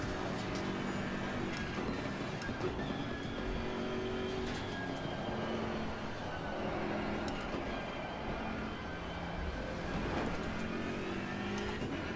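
A BMW GT3 race car in Assetto Corsa Competizione at Paul Ricard runs continuously at high revs, its engine droning steadily with shifting pitch and tyre and wind noise throughout, loud and close with no talk.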